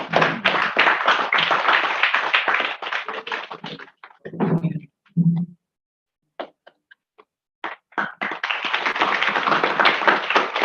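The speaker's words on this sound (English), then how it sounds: "Please applaud." An audience at a University of Madras event claps in a burst, fades into near silence with a few scattered claps, then swells into applause again.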